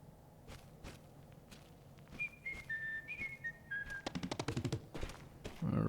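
Donkey Kong whistles a short, bright melodic tune in the video game Donkey Kong Bananza, with soft footstep thumps before and a quick run of heavier thuds after.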